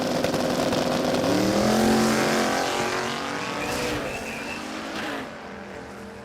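Holden Commodore drag racing cars at Warwick Dragway roar past in a loud, sweeping engine run with rising pitch and faint tire squeal, then fade into distant crowd and track noise.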